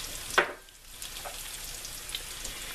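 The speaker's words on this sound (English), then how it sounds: "This is boiling and getting thick." A béchamel sauce boiling and thickening in a pan over turned-down heat, giving a soft bubbling sizzle with one brief louder burst near the start, then a steady low simmer with no talking.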